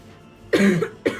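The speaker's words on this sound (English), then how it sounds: "why am I coughing so much?" Two sharp coughs from a person with a sore throat, close to the microphone, the first a harsh burst followed by a shorter second one, over quiet room tone.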